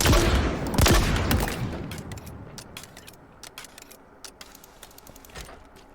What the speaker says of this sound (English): it is the classic rocket launcher